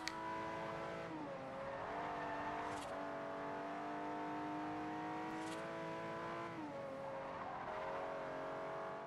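A very fast car in Forza Horizon, its engine revving hard and shifting through gears in a steady high-pitched roar, with pitch drops at each gear change and brief tire squeals, loud and close throughout.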